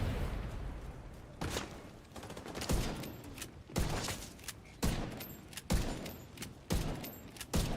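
Slingshot SMG fire in The Division 2 comes in repeated bursts of rapid shots, about six bursts spaced roughly a second apart at moderate loudness, with no talking.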